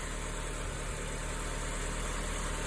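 A car engine idles steadily just after its throttle body rebuild, a smooth, even low rumble running unbroken and close for the whole stretch with no talking.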